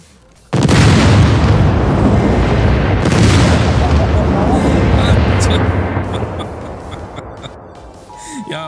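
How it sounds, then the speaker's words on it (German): A vehicle explodes in the video game SCUM: a sudden loud boom bursts in, followed by a long roaring rumble and a second blast, slowly fading as debris crackles, with speech toward the end. "das passiert, wenn das Fahrzeug dann zum Explodieren geflogen wird"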